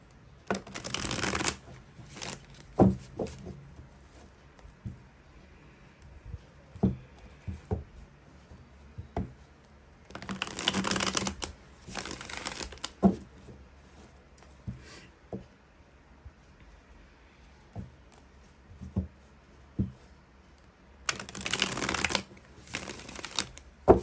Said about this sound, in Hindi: आज सिर्फ एक डेक का इस्तेमाल कर रही हूँ और इसी डेक से जो है 10 कार्ड्स मैं निकालूंगी